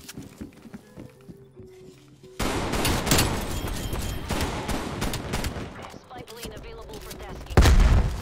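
Gunfire in the video game Call of Duty Cold War: a quiet stretch, then a sudden loud burst of dense rapid shots that carries on with a heavy boom near the end, along with some game sounds and brief talk.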